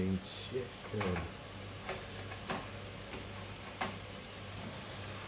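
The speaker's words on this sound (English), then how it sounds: "sizzling chicken." Chicken sizzling in a pan on a home stove, with a steady faint fry under repeated clinks and stirring scrapes of a utensil against the pan, plus a few brief voices.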